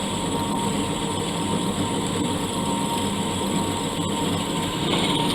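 A drill machine drilling a hole in solid metal whirs steadily and loudly, a continuous mechanical drone with a faint high whine.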